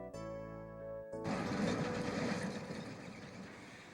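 A Missouri Pacific switcher locomotive rolls past northbound on the Iron Mountain branch, a sustained horn-like tone giving way abruptly to loud, broadband rumbling and rattling of wheels and cars close by.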